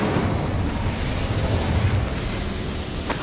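An Incendio fire spell cast in Hogwarts Legacy makes a loud, dense burst of whooshing flame that roars steadily for about three seconds, with a sharper crackle near the end.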